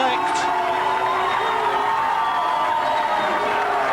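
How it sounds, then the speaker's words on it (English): A dense, roaring crowd cheers steadily as rugby league teams walk out onto the ground at a Keighley versus Batley match, with the noise sustained and far-off, blending into the stadium air. "listen to that crowd then receiving the champions-elect"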